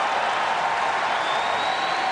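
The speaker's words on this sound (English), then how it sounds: "That brings the crowd up to their feet." Tennis crowd at an exhibition match in Macao, China, applauding and cheering in a steady, dense wash of clapping throughout.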